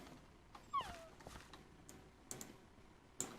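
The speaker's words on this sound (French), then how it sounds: "Oh, le chien, il est dans le wagon." A Minecraft dog whimpers with a short high whine, joined by faint clicks and soft game noises, with a few scattered blips afterward, all fairly quiet.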